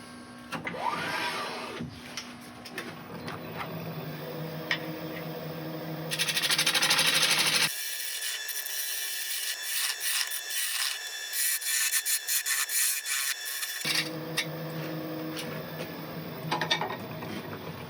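Steady abrasive rubbing from sanding a wooden bowl spinning on a lathe, a continuous gritty hiss that shifts in tone partway through, with no talking.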